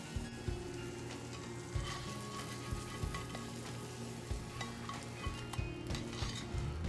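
An egg fries in a hot pan for a lightly over-easy breakfast sandwich, giving a steady close sizzle with scattered pops and crackles throughout and no speech.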